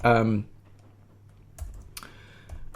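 A short burst of voice gives way to a few sparse, light keystrokes on a computer keyboard, close and fairly quiet.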